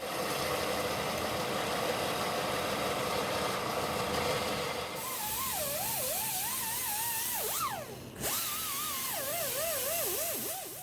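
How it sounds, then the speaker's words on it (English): A belt sander grinds metal transmission crossmember mounts into a conical shape during a 1966 Ford Bronco restoration. Loud, continuous grinding runs throughout, its pitch wavering as the work is pressed, with a brief dip near the end. "I'm going to use the belt sander to give the mounts a conical shape"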